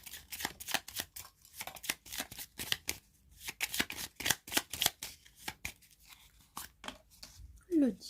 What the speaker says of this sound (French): Je vais tirer un arcane majeur du tarot avec les charms.